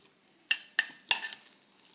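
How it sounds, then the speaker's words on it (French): A spoon clinks against a bowl three times in quick succession while capers are stirred into a yogurt sauce, sharp close taps with short ringing tails, then a few softer scrapes. "Je mélange."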